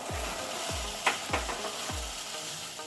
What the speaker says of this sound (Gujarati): આ ઉકળતા પાણીમાં આપણે આ વટાણાને નાખી દઈશું